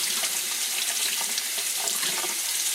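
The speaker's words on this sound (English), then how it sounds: "I'm going to keep rinsing until my water's clear" A kitchen sink tap runs steadily while acorn meal is rinsed beneath it, a bright hissing splash of water that stays continuous and close with small fluctuations, no voices.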